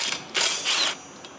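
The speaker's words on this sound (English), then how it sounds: "You got to remove this. It's a 14mm socket." A ratchet with a 14mm socket turns a wiper arm nut on a Nissan Versa, two short, loud mechanical whirring bursts close up.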